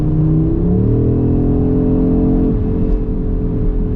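Audi RS3 8Y with its five-cylinder engine in maximum attack mode, revving in a steady, loud, throaty drone heard from inside the cabin, pitch rising and then settling.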